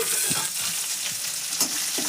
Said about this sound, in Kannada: ಇದು ಎಲ್ಲ ಎಣ್ಣೆ ಒಳಗೆ ಫ್ರೈ ಆಗ್ತದೆ